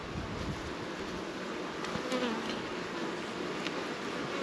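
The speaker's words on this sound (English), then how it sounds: "There's so many bees" A dense, steady hum of many honeybees buzzing close by at a home hive, continuous and even throughout with no voices.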